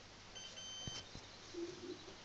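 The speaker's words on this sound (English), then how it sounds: "And that was the phone." A phone gives faint electronic beeps, a few thin tones early on and a brief lower tone near the end, quiet against room noise.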